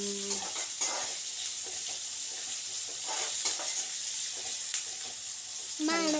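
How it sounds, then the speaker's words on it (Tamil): Spices being stirred into a sizzling fish curry in a pan: a steady close frying hiss with soft, irregular scrapes and stirring strokes, and a brief higher squeak near the end. "எல்லாத்தையும் ஒன்றா மிக்ஸ் பண்ணிவிட்டு நல்லா கிண்டி விட்டுக்கலாம்"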